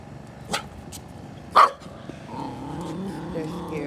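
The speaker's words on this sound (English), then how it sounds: "There's two dogs." Two dogs bark in a residential neighborhood, a couple of sharp, fairly close barks a second apart followed by a low growl, with faint murmuring in the background.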